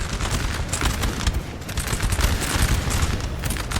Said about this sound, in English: There's the first cannon volley.